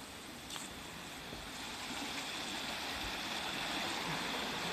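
A shallow river flowing beside an outdoor bowl-shaped river pool in Yamaguchi, Japan, makes a steady, broad rush and gurgle that holds at one level throughout, with no voices.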